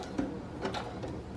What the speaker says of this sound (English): we're gonna go ahead and sew across so that our lace is attached